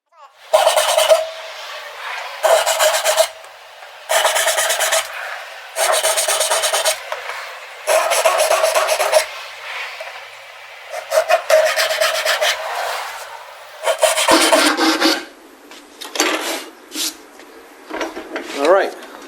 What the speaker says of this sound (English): Now I'm going to go over to the bandsaw and cut